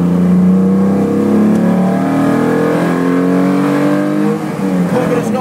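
Lancia Stratos racing at Le Mans Classic, heard from inside as the engine revs hard with rising and falling pitch through gear changes, loud and continuous.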